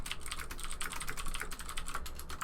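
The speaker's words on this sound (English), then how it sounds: "that's my gaming keyboard. I can't turn the clickety clacking off." Rapid clicky keystrokes on a gaming keyboard, a dense stream of sharp clacks recorded up close but at low level.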